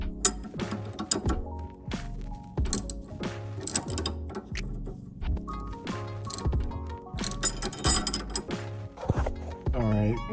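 Wrench or ratchet clicking as it loosens a bolt on the rear toe arm of a B7 Volkswagen Passat, with repeated ratcheting and metallic clanks in bursts, fairly close, with light background noise.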